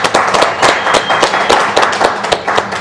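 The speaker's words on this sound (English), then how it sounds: "Round of applause for that right there." Clapping from a small group in a casual hangout, a steady patter of hand claps with uneven rhythm that stays fairly loud and close for the whole stretch.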